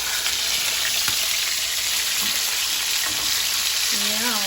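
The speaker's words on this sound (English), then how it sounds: "I'm just going to keep flipping so the butter and garlic flavor can get into the steak" Steak searing in butter with a split garlic clove, a loud, dense, continuous sizzle close up, with faint clinks as the meat is flipped.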